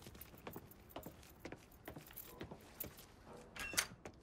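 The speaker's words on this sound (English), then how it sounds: "Hey, man, grab those keys." Keys jangling as they are picked up in the video game Mafia III, a few light metallic jingles and clinks scattered over a busy game soundscape, with a brighter rattle near the end.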